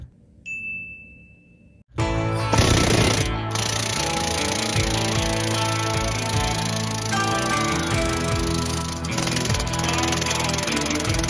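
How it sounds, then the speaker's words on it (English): Loud, continuous metallic hammering and clanging close by while knocking out a sway bar bushing on a Ford Econoline, dense and steady after a quiet start, with sharp ringing tones over the din. "we're gonna start hammering it and see what happens"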